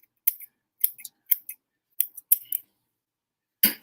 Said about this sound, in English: So just gonna cut some cilantro right on top of this thing and get this super yummy.